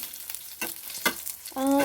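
Oil crackles and sizzles in short bursts as mustard seeds, curry leaves, a dried red chilli and crushed garlic are fried and stirred for a sambar tempering, with a brief tonal clink near the end.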